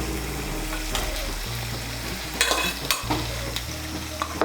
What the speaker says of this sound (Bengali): আলুগুলোকে মিশিয়ে নেব। মশলার সঙ্গে মিশিয়ে নিয়ে আলুগুলোকে একটু কষিয়ে নেব মশলার সঙ্গে।